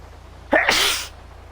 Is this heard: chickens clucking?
no